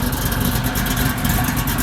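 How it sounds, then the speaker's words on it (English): A car engine runs just after a cold start, giving a steady, close rumbling idle with a faint rhythmic pulse. "y'all see that cold start, boy."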